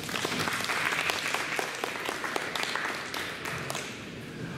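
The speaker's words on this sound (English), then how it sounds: "Let's give him a round of applause." A room of people at a post-prom party gives a volunteer a round of applause, dense continuous clapping that slowly tapers off over a few seconds.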